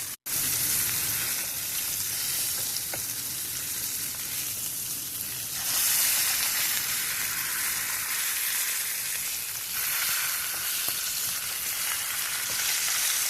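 Sausage patties frying in a pan give off a steady, close sizzle that carries on evenly from start to finish, with no talking over it.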